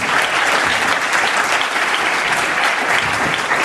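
Dense, loud applause from an audience fills the room steadily at a hypnosis show, a continuous wash of many hands clapping with no voices on top.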